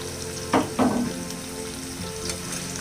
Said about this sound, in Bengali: তো চিংড়ি মাছগুলোকেও হচ্ছে আমি হালকা করে বেড়ে নিচ্ছি